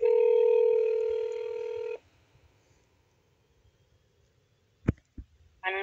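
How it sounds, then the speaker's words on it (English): Telephone line tones on a police emergency and non-emergency dispatch call after being hung up on: a steady electronic tone for about two seconds, then near silence broken by a few clicks and a short tonal burst. "I just got hung up on by Cassidy"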